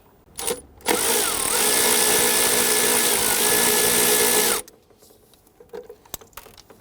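A ratchet spins a 10mm bolt free from the hard line bracket on the intake of a 2011-2017 Nissan Quest 3.5L V6, one steady whirring burst lasting several seconds, close up, followed by quieter shop noise.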